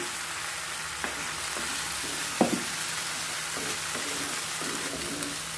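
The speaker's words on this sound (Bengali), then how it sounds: "অল্প একটু কষিয়ে নেব" Pabda fish sizzles softly in a pan with mustard-poppy seed paste and salt, a low steady frying hiss broken by a few stirring scrapes and knocks, with no talk.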